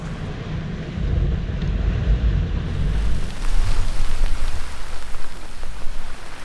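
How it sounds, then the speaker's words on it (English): Steady rain patters on a sailboat riding at anchor, a dense continuous wash with low rumbling wind buffeting the microphone, growing slightly louder midway, with no voices. "Today is a rainy morning."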